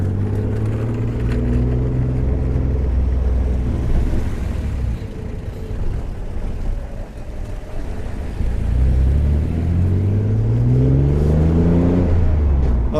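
A Renault Clio V6 Sport Phase 2 with an aftermarket exhaust rumbles nearby from inside, its engine note rising through gears, easing off, then climbing again in a deep droning acceleration.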